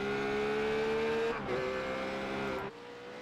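Ruf race cars at Imola roar past close by, a sustained high engine drone shifting pitch with gear changes, then dropping away abruptly as the car passes.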